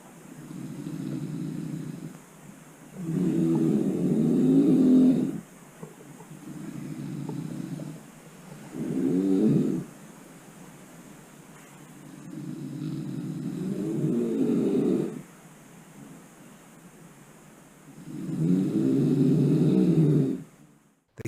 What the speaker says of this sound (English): fervent snoring in the room